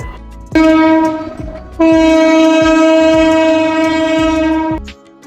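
Loud, sustained two-tone horn of the Jayantika Express as it pulls out of Sylhet railway station in Bangladesh, a short blast followed by a longer one, over rumbling rail noise with no talking.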